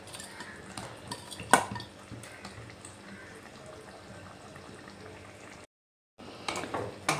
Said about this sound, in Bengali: এরপর আমি যে কোপ্তাগুলো ভেজে রেখেছিলাম সেগুলো দিয়ে দিচ্ছি